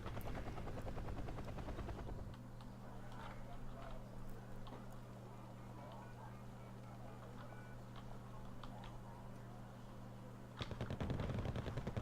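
An Mi-25 attack helicopter in a wargame drones with a steady rotor hum, while scattered gunfire and faint ticking sit under it and louder engine noise swells at the start and end.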